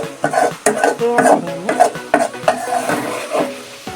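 Marinated chicken for a curry cooks in a pot, with a utensil scraping and clanking against the metal in an irregular rhythm over a soft sizzle, close and fairly loud, with no talking.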